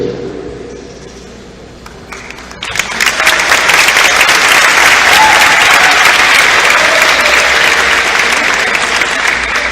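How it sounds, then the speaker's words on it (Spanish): Audience applause at a university event welcoming Bishop Fray Raúl Vera, starting quieter and swelling at about three seconds into loud, dense, sustained clapping from a large crowd that continues to the end. "ya se la han dado ustedes con sus aplausos, con su júbilo cuando ha llegado Fray Raúl Vera a este lugar"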